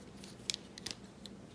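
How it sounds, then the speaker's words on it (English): Victorinox Ranger and Leatherman Free T4 scissors make a few quick, crisp snips, close and quiet, in two short pairs followed by a lighter single cut. "Scissors side by side."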